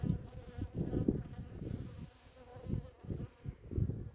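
Honey bees buzzing close by during an inspection of a queenless hive, an uneven hum that rises and falls in short bursts as individual bees move near.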